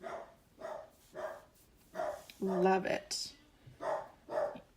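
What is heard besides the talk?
dog barking at the mailman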